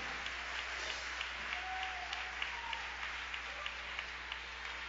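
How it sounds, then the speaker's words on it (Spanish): Congregation at a church vigil clapping in steady rhythm, a dense, even patter of many hands continuing without a break. "regálale palmas al Rey de Reyes y Señor de Señores"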